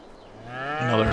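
A cow in Farming Simulator 22 gives a single, close, rising moo that swells louder toward the end.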